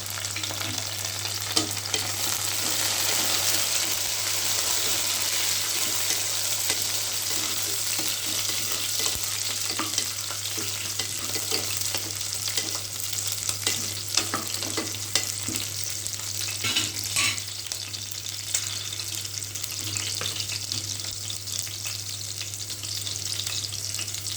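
Green chilies, mint and curry leaves fry in a pan for cauliflower rice, giving a dense, continuous loud sizzle with occasional stirring clatter over a low steady hum, and no talking.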